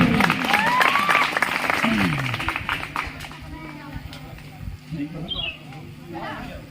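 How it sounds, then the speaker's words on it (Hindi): Audience at a college poetry gathering (kavi sammelan) breaking into enthusiastic applause, dense clapping at first that thins and fades over several seconds, with scattered murmurs and crowd noise underneath. "जोरदार तालियों से स्वागत करिए।"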